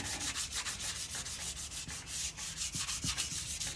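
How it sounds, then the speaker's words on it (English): Light hand sanding with very fine 400 grit sandpaper on a sheen-finished lamp surface, a close, steady rhythmic rubbing swish repeating in quick strokes, alone without talking. "400 grit sandpaper. It's very fine. Lightly sand."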